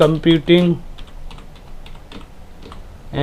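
Typing on a computer keyboard while entering rates into an Excel tax invoice sheet, a faint, scattered run of soft key clicks after a brief burst of speech at the start.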